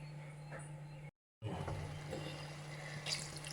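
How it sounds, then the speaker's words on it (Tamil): Water is poured from a vessel into a pot of mutton head curry, a soft continuous splashing and trickling close by, briefly cut out and then resuming with faint kitchen sounds. "அவ்வளோதான் தண்ணி ஊற்றிக்கலாம்"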